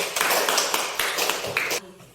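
A classroom group claps together for a team that has just presented its discussion results, a dense, steady wash of many hands that lasts under two seconds, then stops abruptly.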